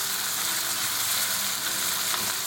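Onion fries in a pan for a green beans sabzi, a dense, even sizzling hiss holding steady and fairly loud throughout, with no break or other sound.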